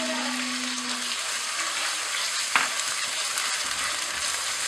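Onion and chicken sizzle in hot oil in a kadhai, a steady, even crackle with a brief clink partway through and no talking.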